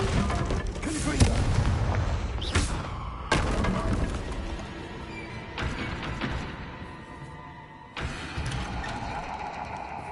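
Loud booming blasts from the Confringo fire spell in Hogwarts Legacy repeat in heavy bursts over a dense rumbling battle din for about ten seconds.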